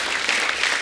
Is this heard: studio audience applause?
yes